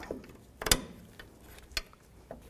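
A ratchet with a 13 mm 12-point socket turns a new bolt on a 1984-2001 Jeep Cherokee front lower ball joint, giving a few sharp, separate clicks close by.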